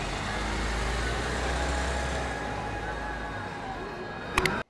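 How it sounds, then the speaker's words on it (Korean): Steady roar of road traffic on a busy downtown street, cars and engines blending into a constant hum, ending with a couple of sharp clicks. "차 소리, 노래 소리, 사람들의 소리가 들리는 곳입니다."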